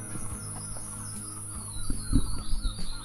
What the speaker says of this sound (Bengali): আর পাখির ডাক শুনতে পাচ্ছি খুব ভালোভাবে।